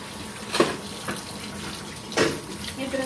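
Mangoes are washed under a running kitchen tap, giving a steady, moderately loud hiss of flowing water broken by a few splashy bursts as the fruit is handled.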